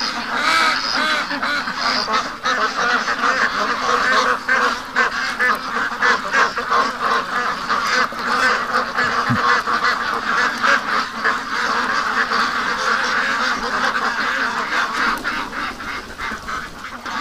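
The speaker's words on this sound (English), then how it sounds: "Look at these ducks." A flock of ducks quack and honk continuously and loudly at close range, a busy overlapping chorus, while they wait for a tub to be filled with water.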